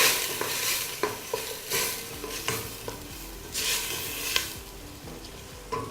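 Boiled prawns being stirred in a pan for linguine, with wine added: a run of close scraping and clattering strokes at an uneven rhythm over a soft background sizzle, with no talk.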